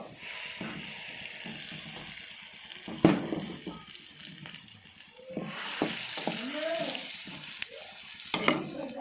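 Ground tamarind gojju masala paste sizzles in a pan while a spoon stirs and scrapes it, giving loud, uneven bursts of frying over a continuous hiss, with no speech.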